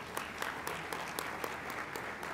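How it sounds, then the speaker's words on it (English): A luncheon audience at a mayors' annual meeting gives a round of applause for a mayor who is absent, a short, even patter of clapping heard from within the crowd. "give her a round of applause"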